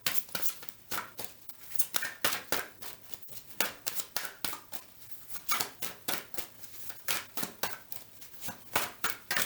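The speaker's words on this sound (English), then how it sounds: "I will keep shuffling until a card comes out" Tarot cards being shuffled by hand, a series of quiet crisp riffling bursts repeating in an irregular rhythm, close and soft with no talking over them.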